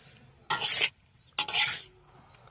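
Pointed gourd with salt and turmeric is stirred in a pan over a village cooking fire, producing two distinct scraping bursts of spatula against metal, with a soft sizzle between them.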